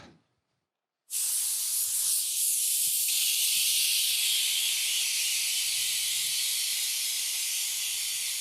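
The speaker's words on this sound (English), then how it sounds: "you spray a little bit of silicone" After a second of silence, a continuous spray of liquid silicone hisses onto a closed mold, loud and steady, with faint handling noises underneath.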